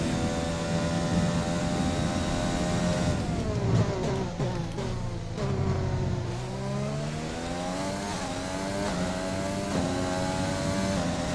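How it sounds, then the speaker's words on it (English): A Formula 1 car engine in the F1 2020 racing game screams at high revs, then drops sharply through downshifts before climbing again in rising gear sweeps, loud and continuous with no voices. "Sometimes I just get mesmerized by the sound of the engine."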